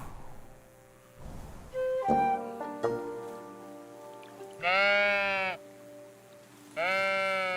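Sheep bleat loudly several times in a video game, long wavering calls separated by pauses, over a quiet background with a few soft knocks.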